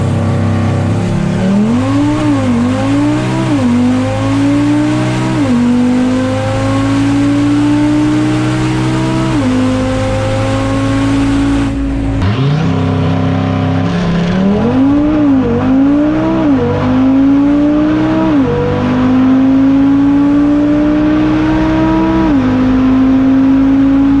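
An 1100-horsepower twin-turbo Mustang roars hard and close during a drag race launch, its engine note climbing and dropping through repeated gear changes, loud and continuous with no talk.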